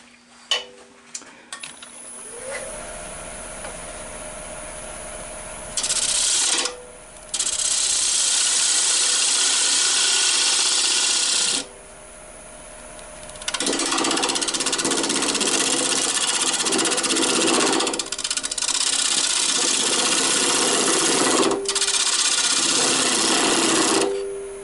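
Skew chisel cutting green wood on a lathe, a continuous hissing, rasping shear with the motor's steady hum beneath, broken into several long passes with brief pauses between, loud and close.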